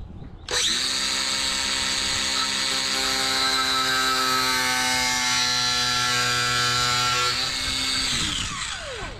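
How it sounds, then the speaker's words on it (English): Milwaukee angle grinder with a cutoff wheel cutting a junkyard car side skirt: a sharp start, then a loud, steady high whine held for about eight seconds before spinning down, close and alone. "My choice of weapon, cutoff wheel on my Milwaukee grinder."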